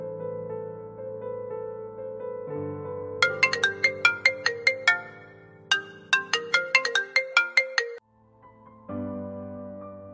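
A mobile phone plays a melodic electronic ringtone while a call goes through. Bright plucked notes repeat in quick rhythmic runs over a sustained synth backing, then the ringtone stops abruptly and briefly resumes.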